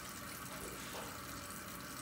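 Hot water runs from a tap, a steady close hiss and splash that holds evenly throughout with no voices.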